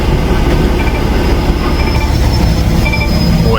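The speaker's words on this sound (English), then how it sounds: "Boy, train." A train rolls past close by, a loud, steady roar of rumbling wheels and rail noise with faint squeals, continuous from start to end.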